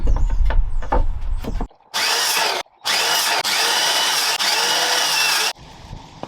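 Power tool trimming wood for a campervan window frame, with loud, steady buzzing cutting bursts broken by short pauses, after a few quieter knocks and handling sounds at the start.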